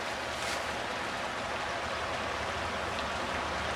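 The Dolores River flowing beneath an old railroad bridge, heard up close from the bank as a steady, even rush of water with no pauses.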